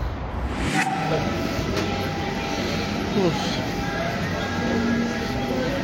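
A steady, loud rumble of a passing Lyon Metro line A train running near ground level fills the whole stretch, with a faint squeal and background murmur, nearby and continuous.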